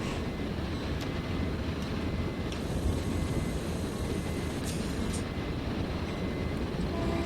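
An F40 locomotive runs in the Train Sim World 3 video game, a dense, steady rumble and roar of a moving train with faint brief clicks and squeals, no talk.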